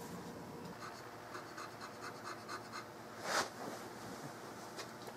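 A hand saw cutting through the wooden stock of a 16-gauge side-by-side shotgun, giving quiet, rhythmic rasping strokes with one sharper scrape partway through.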